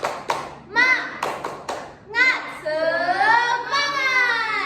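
Children in a classroom doing a rhythmic clapping chant, a few sharp claps in a patterned beat mixed with voices singing and calling out together, close and lively.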